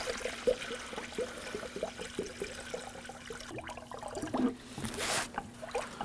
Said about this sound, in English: Using the recommended coolant mixture, we're going to be filling up the coolant system.